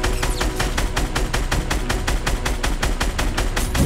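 Rapid automatic gunfire in Fortnite: a loud, steady burst of evenly spaced shots, about five per second, running without a break.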